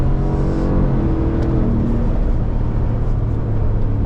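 A deep, steady Ford F-150 5.0 V8 engine rumble idles loudly and close in a pickup truck cab, with a low throbbing drone holding constant throughout.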